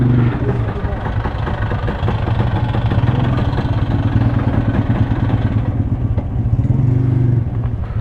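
Motorcycle engine running steadily and loudly close by on a long-distance road trip, a continuous idle-like drone with faint clunks as it is put in gear, with a voice talking over it.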